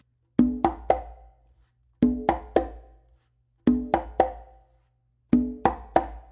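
Four repeated phrases of hand drumming on congas, each a ringing open tone then two crisp closed slaps, close and clear with no talking.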